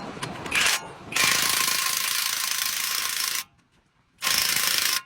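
A power ratchet spins a large socket to tighten a wheel bearing bolt on a 2016 Toyota Corolla, giving loud buzzing mechanical bursts close by, one long run, a brief pause, then another.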